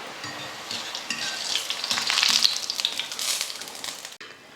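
Boondi for laddu fries in hot oil, giving a dense, bright crackling sizzle with stirring scrapes that swells, then cuts off sharply just before the end.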